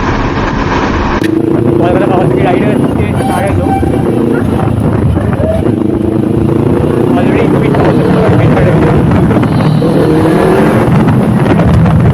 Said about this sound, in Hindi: मेरे बाइक का लाउड एग्जॉस्ट इन लोगों को दूर से सुनाई दे रहा है